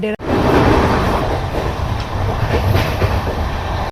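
A passenger train from Malda Town to Sealdah rumbles loudly and steadily along the tracks, with a constant rattling roar and faint clicks of wheels over rail joints, heard from inside a carriage.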